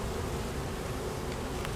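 Honey bees buzz steadily and densely around a hive box during queen grafting, a continuous close drone with no speech.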